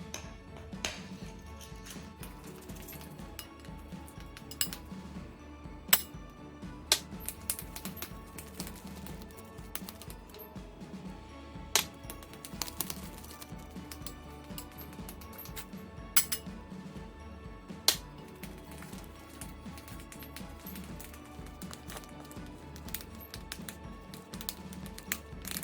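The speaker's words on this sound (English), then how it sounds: "Then I'm gonna mix it by adding a little bit of the yolk each time, and then keep mixing it just like that." Egg yolk being mixed into chocolate batter in a bowl gives faint, irregular clinks and taps of a utensil against the bowl, quiet and scattered throughout with no talking.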